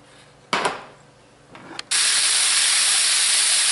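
Breakfast sausage, peppers and onions hitting hot oil, a couple of brief scrapes then a loud, steady sizzling hiss that takes over and holds to the end.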